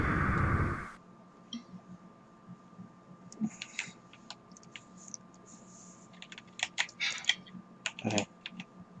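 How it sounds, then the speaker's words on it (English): Quiet clicking of computer keys typed in irregular bursts, close by, getting busier toward the end, with a brief louder noise at the start. "I can hear your keyboard a lot"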